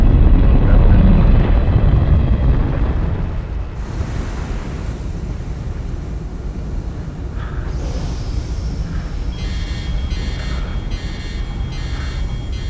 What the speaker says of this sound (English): Liftoff. We have lift.